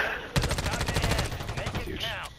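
Rapid video-game gunfire aimed at a redeploying enemy, a loud close burst of evenly spaced automatic shots lasting under two seconds, with a player's voice talking over the shooting.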